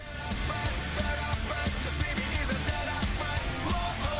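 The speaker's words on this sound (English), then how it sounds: "It's got the rock intensity, but it's grungy." A grungy rock anime opening song plays with driving, distorted guitars and punchy drum hits in a steady, loud rhythm, filling the moment without any talking over it.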